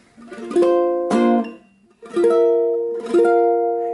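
Strummed ukulele chords with a muted string ring out in short bursts, each sharp attack followed by a brief sustain, with pauses between strums.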